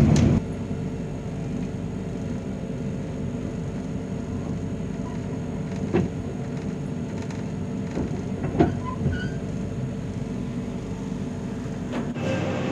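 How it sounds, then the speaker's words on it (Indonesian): The Singasari passenger train rolls into Karawang Station, a steady loud rumble of wheels and engine with faint rail clicks and a few brief squeals, no voices. "kereta api Singasari akan tiba di Stasiun Karawang"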